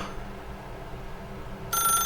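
A telephone rings in the video game The Stanley Parable, a bright electronic ring bursting in near the end after a quiet, low ambient hum.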